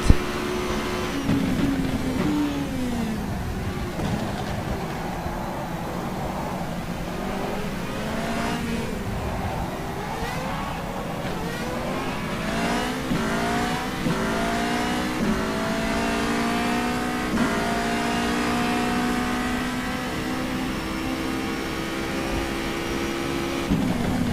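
Formula Renault 3.5 race car engine in the rFactor2 game at Malaysia, a continuous loud high-pitched whine rising and falling through gear changes and corners across a long stretch, with no talking.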